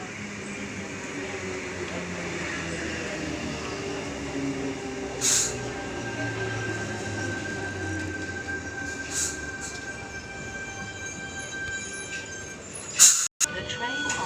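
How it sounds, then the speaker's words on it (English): Train pulling into platform 4 at a Sydney station on a Waterfall via Banksia service: a low steady rumble of wheels and carriages with faint squeals, occasional sharp clanks, and a loud metallic bang near the end. "Waterfall via Banksia service now arriving into platform 4"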